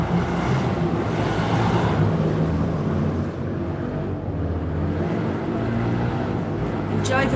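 Motorbikes passing on a nearby road close to the M65, their engines a steady, loud rumbling drone that swells slightly and holds for several seconds.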